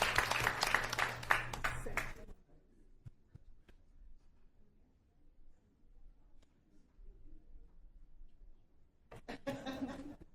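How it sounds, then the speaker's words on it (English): At a regular public meeting, an audience gives a brief burst of applause that fades after about two seconds into near quiet, then a voice and a little more clapping return at the end. "Let's give them a round of applause."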